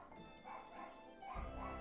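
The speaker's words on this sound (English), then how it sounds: "So, the dog's going ballistic right now." A dog barks and yips excitedly inside a house, a sustained agitated outburst that grows louder toward the end, with no talk over it.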